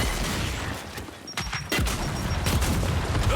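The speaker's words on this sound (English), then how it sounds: "Throwing flash grenade!" A flash grenade goes off in Gears 5 amid ongoing gunfire, with a sharp blast partway through and a high ringing tone after it, over continuous rumbling combat noise.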